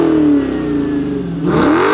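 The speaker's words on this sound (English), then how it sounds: "fire this thing up, and smoke some tires" A Dodge Challenger Scat Pack V8 revs loudly and close, its pitch dipping and then climbing sharply again in a strong, raw engine roar with no talk.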